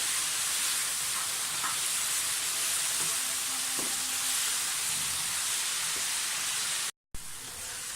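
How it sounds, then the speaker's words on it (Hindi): Vegetables and the white parts of green onions frying in a pan for chicken fried rice, a steady bright sizzle with a few soft clinks and stirs, cut by a brief silent gap near the end. "फ्राई हो गई हमारी सब्जियाँ।"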